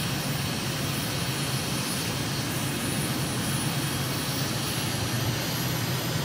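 Steady, loud aircraft engine drone in Microsoft Flight Simulator as a small plane climbs through about 3,000 feet toward a volcanic crater near Malabo, Equatorial Guinea, a constant broadband roar with no talk.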